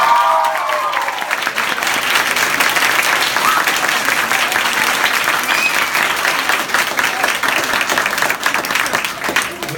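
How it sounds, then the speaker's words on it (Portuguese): Applause from a live audience at a talk or poetry event, many hands clapping in a dense, continuous patter that stays loud across the whole stretch, with a few voices faintly mixed in. "Com vocês, Michel e Aquini, uma salva de palmas."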